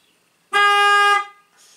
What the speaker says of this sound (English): Let's just see if the horn honks.